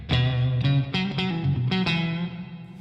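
Electric guitar strums with a wet, lingering reverb tail from a Headrush pedalboard; five or six chord hits ring out and blend into each other, loud and alone.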